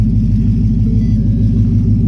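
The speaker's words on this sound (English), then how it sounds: "So your car should always start right up like that." A Ford Mustang S550 fitted with an MSD two-step idles right after starting, a loud, close, deep rumble with an even rapid pulse and no talk.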